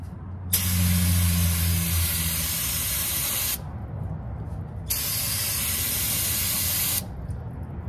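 Two long bursts of aerosol brake cleaner hiss close by onto the brakes of a 1978 Ford F100, about three seconds each with a short pause between, over a low rumble.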